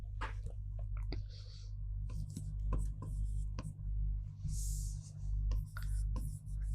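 Pen writing on paper during a history lesson: a string of close, crisp scratching strokes in irregular rhythm, some longer swishes among short taps, over a low steady hum.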